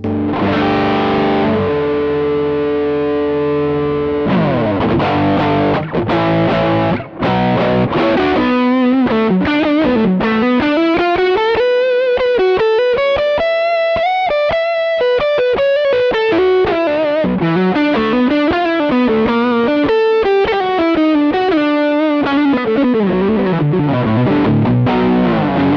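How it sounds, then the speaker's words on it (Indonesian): An Ibanez Prestige FR1620 electric guitar fitted with DiMarzio pickups, played on the neck pickup through heavy distortion: loud sustained chords give way to fast, continuous melodic lead runs, with no talking. "Distorsi ya, ini neck pickup seperti ini."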